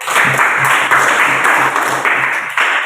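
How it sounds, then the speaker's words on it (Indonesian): Classroom applause for a student group, steady clapping from many hands filling the room, loud and sustained with a few brief dips. "Sebelum itu kita berikan aplaus untuk kelompok 2."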